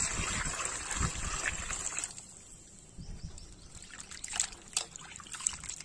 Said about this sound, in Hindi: हम चिकन को धो लेते हैं।